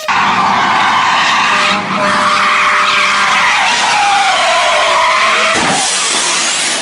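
A car drift driving, tires skidding in a loud, sustained screech with shifting pitch and engine roar, close and continuous for several seconds with a brief dip midway.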